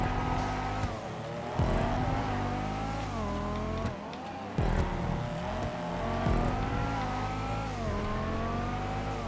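A Banshee sports car racing in GTA 5, its engine screaming loud and close, pitch climbing through the gears with sharp drops at each shift and repeated revving surges.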